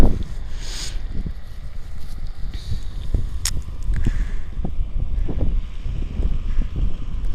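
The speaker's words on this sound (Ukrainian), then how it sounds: "Вітер такий дує холодний, а сухо." Gusty, cold wind over a dry farm field buffets the microphone with low rumbling thumps and rushing noise, steady and close throughout.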